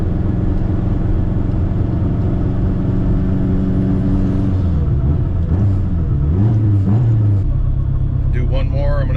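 AWD K-swapped turbo Honda Civic on a street pull, a loud rumbling engine note climbing in pitch as it accelerates on boost, then settling, heard from inside the car with a voice over it.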